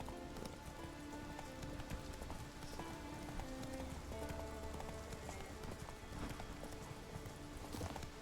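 Roach, the horse in the video game Witcher 3, clip-clops along at a steady trot, the hoofbeats even and close over soft ambient music and rustling.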